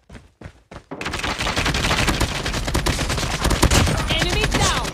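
Rapid automatic AK47 and Renetti gunfire in a search-and-destroy video game match at a coastal map, a few isolated shots then a dense, loud, continuous burst of firing.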